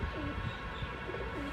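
Pigeons at a home loft coo softly in low, repeated rolling calls over a steady, noisy background hum, with no voices.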